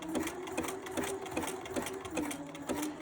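Sewing machine stitching elastic pieces for a pacifier clip, a steady close mechanical whir with a regular clacking needle rhythm about every 0.4 seconds, alone without speech.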